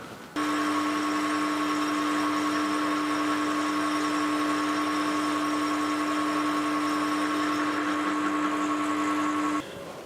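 A lathe makes a light skim cut on the outside diameter of a metal mounting plate for a milling slide, giving a steady, close whirring hum with a constant tone that runs evenly for about nine seconds, then stops.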